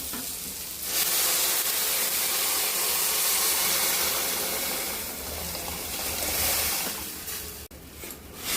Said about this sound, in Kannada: ಈಗ ನಾನು ನೀರು ಹಾಕ್ಕೊತೇನೆ.